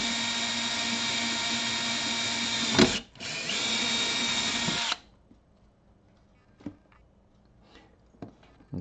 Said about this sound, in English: I'm going to drill straight through.